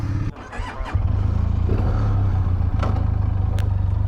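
A motorcycle engine rumbles close by with a low, steady idle that thickens into a throaty revving drone, with faint clatter on top.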